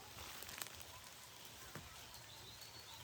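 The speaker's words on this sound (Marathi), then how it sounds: "पाऊस पडलो" Rain falling steadily in a village mango orchard after a storm, a faint continuous patter with a few scattered droplets and occasional distant bird calls.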